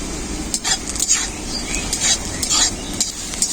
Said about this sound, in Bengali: পোস্ত, কাজু বাদাম আর পেঁয়াজ একসাথে হালকা করে ভেজে নিয়েছি